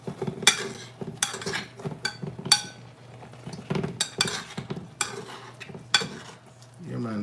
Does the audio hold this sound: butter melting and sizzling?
yes